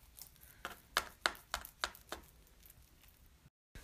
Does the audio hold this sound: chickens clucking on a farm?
no